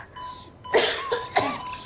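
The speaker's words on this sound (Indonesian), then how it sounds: "Kok tambah sesek dan batuk-batuk begini, Dok?" A woman coughs in a hospital setting while struggling for breath: a few harsh, close coughs in quick succession over a faint steady background tone.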